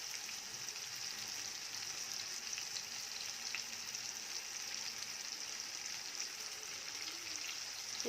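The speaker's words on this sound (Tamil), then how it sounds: "புதினா சேர்த்து நல்லா வதக்கிடுங்க." Mint leaves fry and get stirred in a pan, a steady, even sizzle running throughout with a faint scrape near the end, close and moderately quiet.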